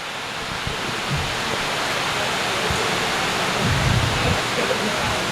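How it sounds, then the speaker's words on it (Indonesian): Heavy rain pours down during a religious study gathering, a dense, loud and steady roar of water with no break from start to finish. "hujan sampai bocor."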